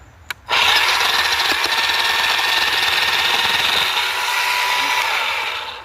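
A Baur chainsaw cuts into wood, starting with a short blip and then a loud, steady engine roar held at high revs for about five seconds. The roar fades slightly toward the end, with no talk over it.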